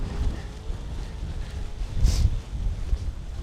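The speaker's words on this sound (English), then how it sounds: "the wind is just piercing right through" Winter wind on the Loch Vale Trail, a steady low rushing roar buffeting the microphone with a stronger gust midway, no talk.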